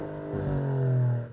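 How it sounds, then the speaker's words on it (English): Idling 2025 Maserati GranTurismo exhaust while stationary, a deep steady rumble that swells into a brief rev and settles back, loud and close, with no talking. "I'm gonna shut up and you're gonna listen to the exhaust. You're gonna listen to it stationary first."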